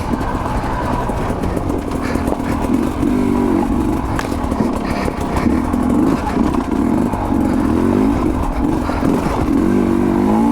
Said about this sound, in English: when you're riding these motorcycles, these dirt bikes